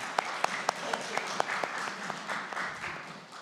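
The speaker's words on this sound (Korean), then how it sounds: "우리 하나님께 영광의 박수 올려드리겠습니다" Applause from a church congregation during a Sunday morning service at an air force base church, heard as a short burst of scattered, uneven claps that soften and thin out over a few seconds.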